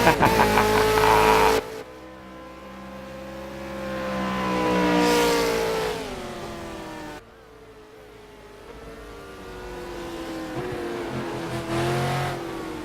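A V8 Supercars Ford Falcon in Project CARS on the Nordschleife roars loudly up through the revs, then drops with a sharp engine note change and climbs again, a continuous close racing engine with no talk over it.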